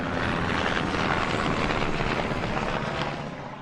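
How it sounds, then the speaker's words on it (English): Big military helicopter passing overhead, a loud, steady rotor and engine roar that fills the whole clip and starts fading at the end. "I got a big helicopter flying over. That is a big military helicopter."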